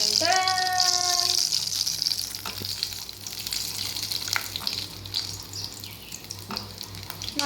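Food frying in a pan during Ganesh puja cooking at home, a steady hiss and sizzle with stirring scrapes and faint clinks, close and moderately quiet, a brief tone at the very start.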